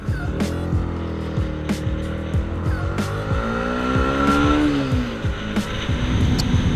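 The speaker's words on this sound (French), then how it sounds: "nous revoilà sur la moto. On va redescendre la colline." A motorcycle engine drones steadily up close while riding downhill, its pitch gliding up and down with the speed, under a constant rush of wind.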